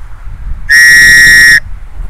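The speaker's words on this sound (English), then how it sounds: "Let's test this whistle." A small whistle clipped to a knife sheath gives one sharp, steady, piercing blast lasting just under a second, loud and close, with no talk.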